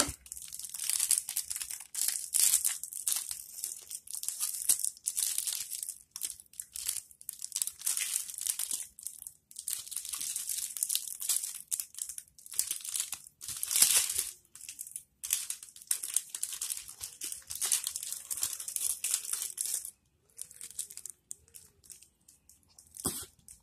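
Plastic wrapping being crinkled and torn off comics during an unboxing, close irregular rustling and crackling bursts with brief pauses, no voices.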